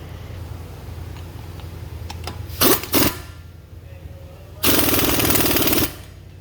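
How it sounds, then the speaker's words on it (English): Impact wrench on a 2003 Honda Pilot tightening the CV axle nut, two short loud bursts followed by a longer sustained rattling burst, close up over a low garage hum. "Get our nut on. And then we'll put an impact on that."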